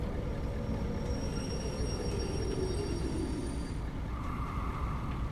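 Train cars roll along the track in the railway simulation game Derail Valley, a steady low rumble of wheels with faint high squeals that fade out near the end, no voices.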